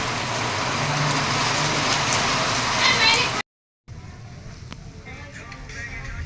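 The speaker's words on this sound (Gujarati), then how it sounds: "એક બાજુ વરસાદ આવે" Steady rain pours down at night, a dense wash of close drumming that cuts out briefly and then returns thinner and quieter.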